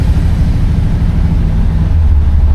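1970 Oldsmobile Cutlass engine running while driving, a loud steady low rumble heard from inside the car, with a deeper drone building near the end.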